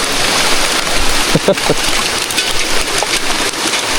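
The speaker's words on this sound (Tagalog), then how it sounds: "lakas na ulan" Heavy rain pours down steadily in a dense, hissing wash in General Nakar, Quezon, Philippines, with a few faint knocks and clatters in the background.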